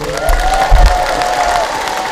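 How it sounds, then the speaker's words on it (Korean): A concert audience applauding at a filial-piety concert in Hongseong, a short burst of crowd clapping and cheering under a sustained voice or tone, close and fairly loud. "박수 한번 보내세요"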